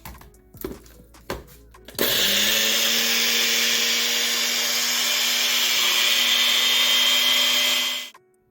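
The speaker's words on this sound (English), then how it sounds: "Add half cup of oatmeal to the blender or food processor." A few knocks and clunks, then a blender roars to life grinding oatmeal and runs loudly and steadily for about six seconds before cutting off abruptly.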